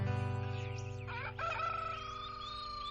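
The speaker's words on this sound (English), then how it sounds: "Hear that rooster crowing." A rooster crow within a played country song, carried over a steady musical backing with strong harmonic tones throughout, the crowing phrase rising briefly in the middle before the music continues.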